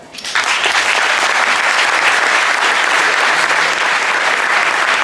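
An audience at a Paris jamaat tournament event bursts into loud, sustained applause welcoming a speaker onto the stage, starting abruptly and holding a dense clapping roar to the end.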